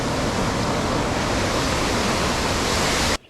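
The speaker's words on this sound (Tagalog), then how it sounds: "Ganda ng Washpin Falls, oh." Washpen Falls in New Zealand rushes with a loud, constant broadband roar heard up close, cutting off sharply just before the end.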